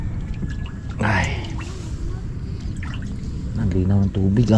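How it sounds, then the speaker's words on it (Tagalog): Floodwater being bailed out of a swamped, cracked boat during a typhoon, with a burst of splashing and pouring water around one second followed by trickling, while people talk nearby throughout. "Tayo naman ay maglilimas ng ating bangka."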